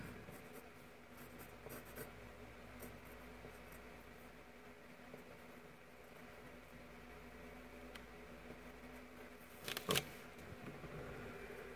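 A sharp-tipped Ticonderoga pencil scratches across paper in soft, steady strokes, faint and close, over a quiet room hiss with a brief louder scrape near the end and no talking.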